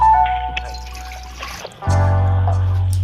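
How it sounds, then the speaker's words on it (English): Water pours into a pressure cooker in a home kitchen, starting as a steady, close, loud rushing stream after a brief moment of voice and faint trickling. "Pressure cooker and add"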